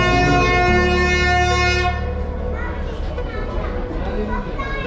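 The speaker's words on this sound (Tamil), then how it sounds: "ட்ரெயின் வருது." The Ooty toy train rolls into the station with loud, sustained tonal horn or brake noise that fades into rumbling, with children's voices and crowd chatter mixed in.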